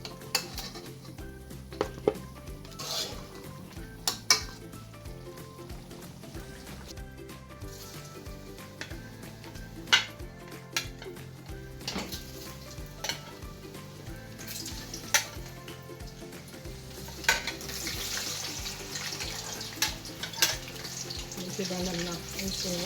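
Griyo, Haitian fried pork, sizzles steadily in a pan while a utensil scrapes and clinks against the metal at irregular intervals, close and continuous, with a voice speaking faintly in the background.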